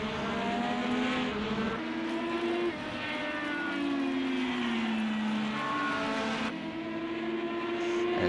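IndyCar race cars lapping Laguna Seca in a racing sim, a steady high engine drone with shifting gear tones and overlapping cars close by, no talking.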